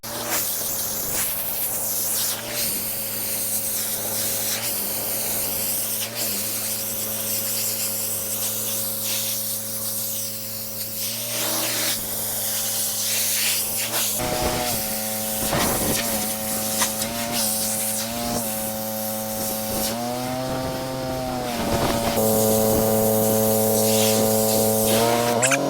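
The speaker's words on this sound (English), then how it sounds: "let's rinse it down and 15-degree fan tip some of the bad bits" Pressure washer with a 15-degree fan tip rinsing a dirty sandstone path outdoors, a loud continuous spraying hiss over a steady motor hum that shifts pitch as the pump works.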